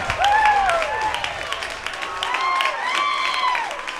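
Home crowd cheering and clapping after a go-ahead run at an American Legion state tournament baseball game in Wyoming, loud sustained cheers with rising, sliding shouts and whoops over a bed of applause.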